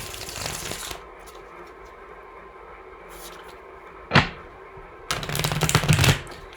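A deck of cards is shuffled in two bursts of rapid riffling flutter, separated by a quiet pause and a sharp tap.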